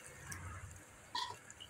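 Milk is poured into a pot of simmering village-style chicken gravy, giving a faint liquid trickle followed by a short, soft splash, quiet and close with no talking.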